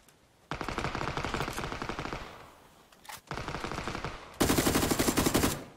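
Automatic gunfire from a K2 rifle rattles in PUBG, several long rapid bursts of loud, close shots separated by brief pauses, the last burst the loudest.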